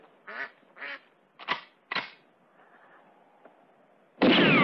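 A duck gives four loud, close, nasal quacks in quick succession, then a few faint sounds before a sudden loud burst cuts in at the end.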